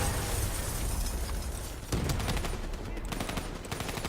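Rapid automatic gunfire from a Call of Duty: Black Ops III co-op match, loud and continuous bursts with crackling impacts and a sharp blast near the two-second mark, a voice faintly under the shooting.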